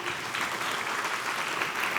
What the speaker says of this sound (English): A round of applause, please, for them.